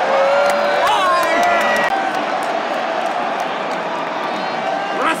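A full arena crowd at WrestleMania 38 roars and cheers in a steady, dense wash of noise, with a few whoops and claps rising out of it while nearby voices talk over the din.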